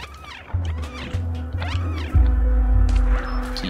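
A cat in the game Stray meows several times in short, close cries, with thumps and a low hum beneath and a brief clatter near the end.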